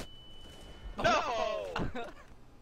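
A flashbang grenade goes off in a CS:GO ESEA pickup match on the Train map: a sudden loud bang about a second in with a ringing tail, then a second sharp hit, over faint background voices.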